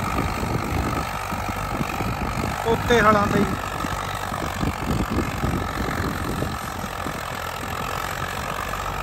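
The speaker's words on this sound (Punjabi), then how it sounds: "ਫੋਰ ਵੀਲ ਡਰਾਈਵ ਟਰੈਕਟਰ ਆ ਜੀ ਐਗਰੀ ਕਿੰਗ ਦਾ" A steady diesel rumble comes from an idling Agri King 2055 four-wheel-drive tractor with a Pune-built 3120 cc three-cylinder engine and Bosch inline pump, running close and continuous while someone speaks briefly.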